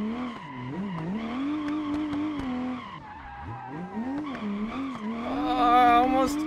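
A drift car on a karting track, its engine rising and falling in pitch as it accelerates and lifts through corners, with tire squeal building toward the end, close and steady throughout.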